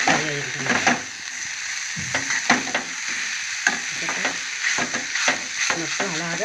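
Leafy greens fry in a pan while being stirred, a continuous sizzle broken by repeated scraping strokes of a spoon, close and fairly loud, with no talking.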